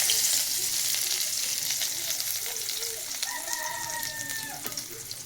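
Onions frying in hot oil in a wok, a steady close hiss and crackle that fades slightly over time, with a few stirring clatters and a short tonal chirp in the background, with no talking.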